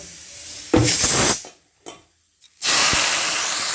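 Vegetable stalks fry in hot oil in a home kitchen, giving loud, close sizzling hiss bursts that surge, drop nearly silent for about a second, then return as a steady fry.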